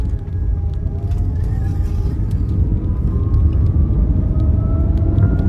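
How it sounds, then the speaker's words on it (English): Loud cabin drone of a manual car cruising in third gear off the clutch, with a deep steady engine rumble and faint whining tones filling the interior throughout, no voices. "I can take my foot all the way off the clutch because there's no idle, and then we just drive it like an automatic."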